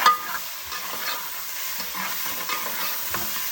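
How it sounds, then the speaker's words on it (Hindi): Onion, tomato, green chili and masala fry for stuffed karela, a bright continuous sizzle close by, with soft stirring strokes through it and no voices. "प्याज देख सकते हो जी आप, टमाटर, हरी मिर्च, मसाला भून के"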